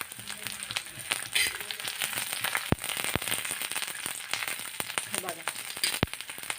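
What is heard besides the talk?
garlic cloves frying and crackling in hot oil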